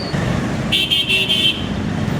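Cars and motorbikes crawl through a narrow, jammed street in Kathmandu, a loud steady traffic rumble broken by one sustained car horn blast lasting under a second, with more engines droning close by.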